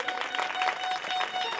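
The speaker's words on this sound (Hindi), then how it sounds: "और जो कल बैंड बाजने वाले थे उनके लिए भी एक बार जोरदार तालियां।" Applause from an audience at a Bhagwat Katha religious gathering, a steady crackling wash of many hands clapping that fills the whole short stretch at moderate loudness with no talk over it.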